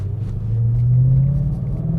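A 2011–2014 Ford Mustang GT with a Borla exhaust climbs a hill, its deep, loud exhaust rumble rising steadily under load after a downshift, close and continuous.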